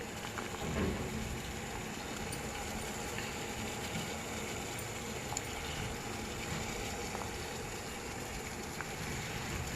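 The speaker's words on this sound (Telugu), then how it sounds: "చక్కగా ఉడకనివ్వాలి మామిడికాయ ముక్కలు" Mango pieces boiling in a pot on a high flame as a sweet is cooked: a steady, continuous bubbling hiss with a soft low rumble that holds evenly the whole way through, with no one talking.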